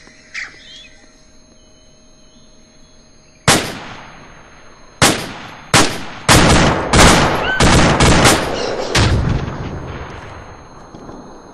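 Grenade blasts and gunfire in the military shooter ARMA 2: a quiet stretch, then a series of loud, sharp detonations and shots in quick succession with decaying tails, no talk.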